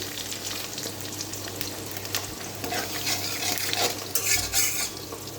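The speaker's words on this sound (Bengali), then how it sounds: "তো এখন আমি জিরে ফোড়ন দিয়ে দেবো।" Cumin seeds fry in hot oil for a Bengali fish curry, a continuous close sizzle broken by clinks and scrapes of a utensil against the pan, with no talking.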